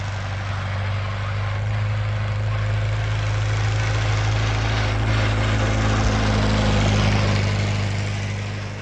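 An old tractor, bought locked-up for $500 and freshly revived, runs in first gear with a steady low engine drone that swells gently and eases off near the end, with no voices.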